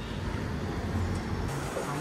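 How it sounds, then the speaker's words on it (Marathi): An auto rickshaw arrives along a road in Goa, its engine a steady low rumble under constant traffic noise, swelling slightly toward the end as it draws near. "ही बघा ही रिक्षा आली."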